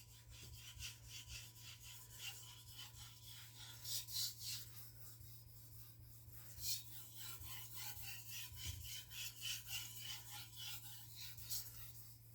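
A kitchen knife edge is worked across a sticky sharpening whetstone in steady, repeated rasping strokes, close and fairly quiet, under a constant low hum.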